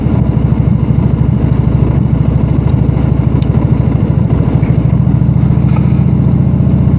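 Motorcycle engine thrumming steadily while riding down a gravel road, a loud, close, continuous low pulsing drone with slight shifts in pitch and no voices.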